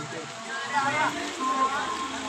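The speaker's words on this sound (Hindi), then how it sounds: "अभी हल्की हल्की बारिश हो रही है" Light rain falls outside a shop as a steady, even hiss of drops on surfaces, heard from nearby with the shutter lowered, and faint tones drift over it.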